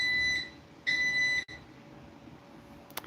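A garage door opener running on battery backup gives two steady electronic beeps, each lasting about half a second, then goes quiet apart from a faint click at the end.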